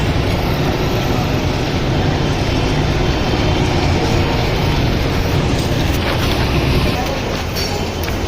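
A Kolkata metro train runs from Howrah toward Dharmatala, giving a steady, loud rumble and rattle of wheels and carriage heard from inside the car.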